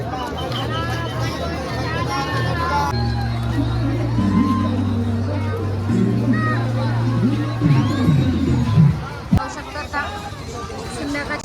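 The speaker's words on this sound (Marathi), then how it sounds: "मानवंदना देण्यासाठी खूप म्हणजे खूपच गर्दी आहे खूप गर्दी" A huge crowd gathered at Koregaon Bhima on 1 January produces a dense murmur of many voices, with engine hum and vehicles among the throng, and a nearby voice speaking over it.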